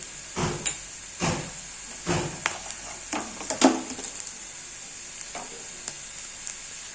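Onion frying in a pan for tomato chutney, with a steady high sizzle broken by repeated scraping stirs of a spoon, close and fairly loud, no voices.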